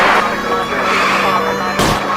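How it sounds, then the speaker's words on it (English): A single sharp gunshot in the crime game L.A. Noire rings out near the end, fired at a fleeing arson suspect's car tires during a chase. It cracks over a steady, loud wash of engine and driving noise. "I'll try to shoot out his tires."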